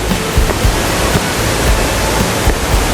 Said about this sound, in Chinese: 我们即将抵达处女瀑布。